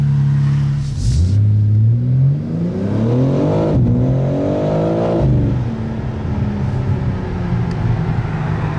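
A BMW M4 pulls away and accelerates hard, its engine note climbing steeply through two upshifts with a deep, loud roar heard close, settling into a steady drone afterward.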